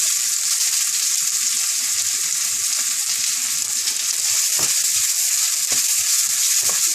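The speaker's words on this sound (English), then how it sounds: "Saute them till the onions go translucent." Chopped onions sauté with garlic in a pan for a seabass and langoustine green curry, a loud, dense, continuous sizzle close by, with a few soft scrapes and taps of stirring toward the end.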